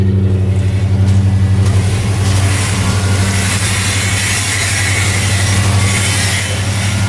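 A truck idles after a cold start in cold weather, its exhaust with headers giving a steady, deep rumbling drone close by, with no speech.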